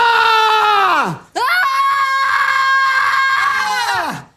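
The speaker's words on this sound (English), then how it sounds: "Filled with rage, I let out a fierce scream, roaring out all the pent-up emotions inside me." A fierce, shrill scream of rage from a single voice, two long loud strained cries separated by a brief gap, each trailing off downward at the end.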